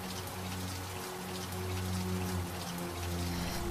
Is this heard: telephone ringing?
no